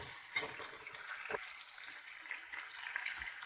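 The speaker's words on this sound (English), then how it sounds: "now I am adding 2 chopped onions and around 5 chopped green chilies." Two chopped onions and about five chopped green chilies fry in a pan while making paper masala dosa, giving a soft, steady hiss and sizzle with a few stirring scrapes, close and fairly quiet.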